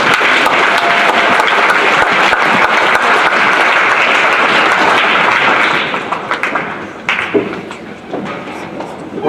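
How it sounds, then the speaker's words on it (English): A chapel congregation applauds to welcome a visiting pastor, with loud, full clapping that thins and fades toward the end. "Please give a round of applause to welcome him."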